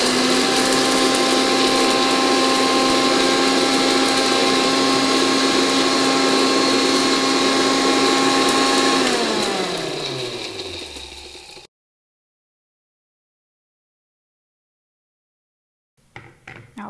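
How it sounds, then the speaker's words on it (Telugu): A mixer grinder whirs at high speed grinding roasted fenugreek and cumin, a loud steady motor whine that winds down in pitch as it is switched off, then falls silent before brief rattling. "మిక్సీ జార్లో వేసుకొని"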